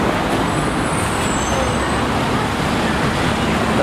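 Loud, dense city street traffic in a business district makes a constant roar of cars, buses and trucks that carries through the whole stretch, with a faint higher squeal briefly riding on top.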